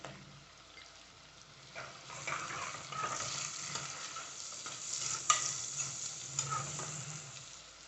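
Salt and half a spoon of turmeric being fried and stirred in a pan for chicken biryani, a steady moderate sizzle with scraping spoon strokes throughout and a few sharper clicks of utensil on metal.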